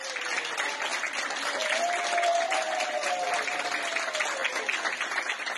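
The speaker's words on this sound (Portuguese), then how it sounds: "Os aplausos são uma homenagem de médicos e enfermeiros a quem, mesmo infectado pelo coronavírus, lutou pela vida." Doctors and nurses in a hospital applaud a COVID patient who recovered after 14 days on a ventilator, with sustained, dense clapping and a few faint voices mixed in.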